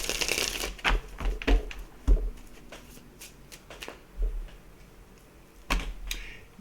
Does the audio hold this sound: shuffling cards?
yes